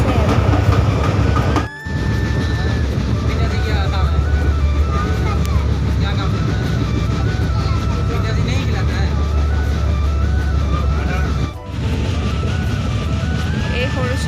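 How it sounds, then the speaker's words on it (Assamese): Passenger train starting to move on a first train journey, a loud, continuous rumble with rising whine tones and rail noise, briefly dipping twice, while people talk over it. "ট্ৰেইনত উঠিলোঁ, এতিয়া যাবলৈ লৈছে ট্ৰেইনখন।"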